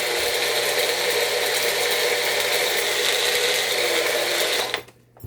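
A blender whirs steadily as it purees ginger for a detox juice, a loud continuous mechanical drone and rattle up close that cuts off abruptly near the end.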